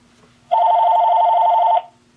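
A telephone rings indoors during a make-up session, one steady electronic ring lasting just over a second, loud and close with nothing else over it.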